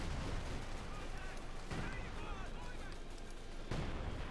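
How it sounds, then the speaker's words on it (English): An artillery strike lands in the World War II strategy game Company of Heroes 2. Distant, muffled explosions and booms roll on under a constant battle din, with a few sharper impacts standing out. "And there you're calling another artillery strike."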